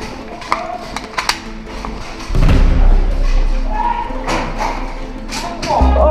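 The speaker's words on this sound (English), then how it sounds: "Oh, best grenade ever." An airsoft grenade goes off during an outdoor airsoft skirmish: a few light taps, then a sudden loud burst at about two seconds that keeps roaring and hissing for several seconds, with voices of players nearby.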